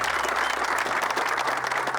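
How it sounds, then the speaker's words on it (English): A brief burst of crowd applause at the Hall of Fame, thick and continuous clapping from many people, loud and close with no voices on top. "Let's give them a round of applause for welcoming us."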